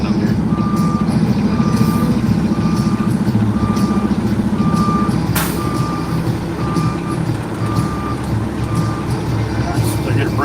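A truck backing in sounds steady reversing beeps at an even pace over a loud idling engine rumble, with occasional clunks and voices talking nearby.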